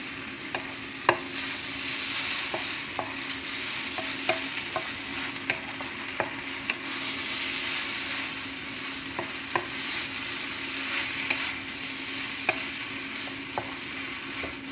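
Shrimp noodles stir-fried with dark soy sauce and Maggi seasoning, sizzling steadily in the pan while a utensil clinks and scrapes at irregular moments, with no talking.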